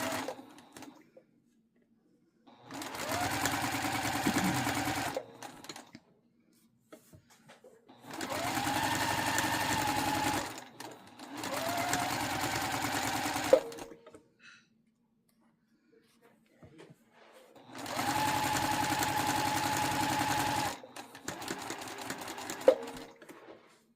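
Home sewing machine running in several long steady bursts, stitching fabric for a window valance, each run a few seconds long and separated by pauses with small clicks and handling noises.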